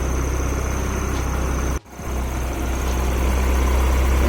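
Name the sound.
Honda Civic H2B engine idling cold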